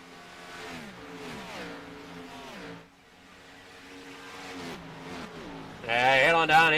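Race car engines drone and shift pitch on the Atlanta oval during an iRacing Cannonball Series event, a steady harmonic whine rising and falling through gear changes and growing louder near the end, with a commentator talking throughout.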